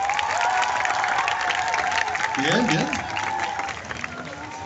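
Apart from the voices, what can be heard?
audience applause for couple number one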